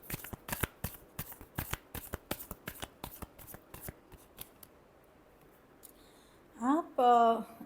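A deck of tarot cards is riffled in a rapid run of crisp, close snaps that thin out and fade, followed by a brief burst of clattering cards near the end.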